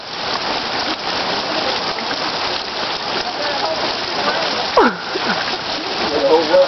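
Heavy rain pours down on a person showering outdoors, a constant close hiss and spatter of water on surfaces, with a brief splashing burst partway through.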